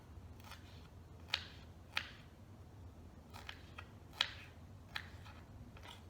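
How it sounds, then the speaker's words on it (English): A knife cuts and chops fresh strawberries on a board, giving sparse, sharp, quiet clicks and taps spaced irregularly against a near-silent background. "So I'm gonna cut the strawberry in half, and then I will chop."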